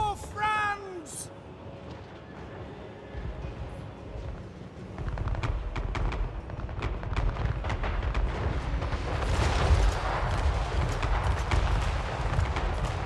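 Artillery pounds units during a Total War: Warhammer 3 battle, with repeated heavy booms and sharp blasts that grow denser and louder partway through, layered over battlefield din and a voice.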